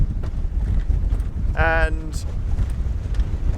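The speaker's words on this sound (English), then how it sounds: "it's blowing about 20 knots here in the anchorage" Steady, heavy wind of about 20 knots rumbles and buffets the microphone aboard a sailboat in an anchorage, with a brief voice and a short tonal sound cutting through partway.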